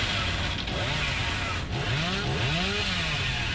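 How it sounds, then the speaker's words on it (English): A chainsaw revs continuously in the video game Dead by Daylight, loud and close, its pitch rising and bending toward the end, with no talk over it. "Sometimes it's impossible to get these chainsaws in when they're close"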